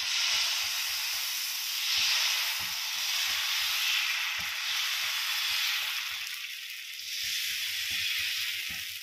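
Salted millet dosa batter hisses on a hot tawa in a steady, wide sizzle that swells and eases in waves, with soft low taps scattered underneath.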